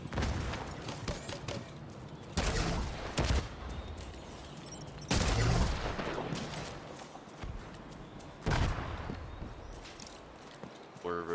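Mortar fire and explosions in a Division 2 shooter game come as several heavy, booming blasts spaced a few seconds apart over dense, rumbling battle noise, with people talking over it.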